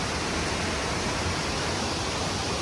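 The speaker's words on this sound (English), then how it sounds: "We're looking at the upper waterfalls right now." The upper waterfall at Letchworth State Park, a 70-foot horseshoe-shaped fall, gives a steady, dense roar of falling water, loud and unbroken, with no voices.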